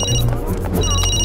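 A mobile phone in a cartoon rings with a bright, repeating electronic trill, broken by a short pause, over a busy background of low hum and indistinct voices.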